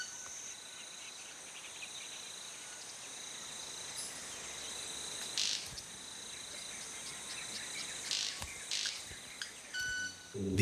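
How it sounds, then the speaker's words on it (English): High, thin chirping calls made by a bird's wingtips repeat over a steady insect-like hiss, with a few sharper whistling bursts standing out near the end. "The images from the high-speed camera show clearly that the sounds come not from the bird's mouth, but from its wingtips"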